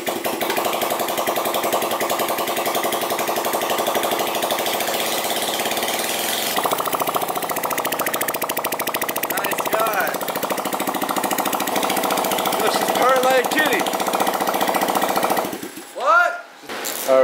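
A tandem scooter's small engine runs steadily and loudly after a clogged fuel filter is replaced, a dense buzzing drone that holds for most of the clip before cutting off near the end, followed by brief clanking.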